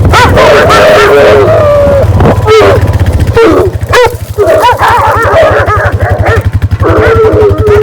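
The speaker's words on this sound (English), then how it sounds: "I think they're trying to decide which one's going to be the lead dog today." Several dogs bark, yip and whine excitedly in a rapid, overlapping flurry just before a trail ride, loud and close, over a steady low hum.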